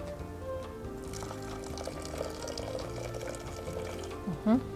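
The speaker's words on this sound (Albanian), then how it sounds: "Ja, vendosim ujë." Water pours steadily into a pot of chicken and vegetable pilaf, a soft continuous splashing trickle close by, with a faint hum in the background.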